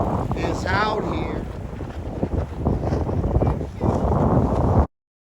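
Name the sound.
wind blowing at Cascade Locks windsurfing spot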